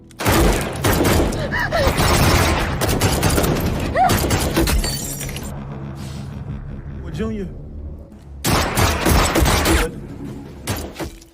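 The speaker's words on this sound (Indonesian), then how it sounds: "Polar pun melakukan perlawanan hingga terjadilah baku tembak." A shootout scene in a film, with dense bursts of gunfire and shattering impacts that come in heavy waves, fade, then flare again, with a voice speaking over the action.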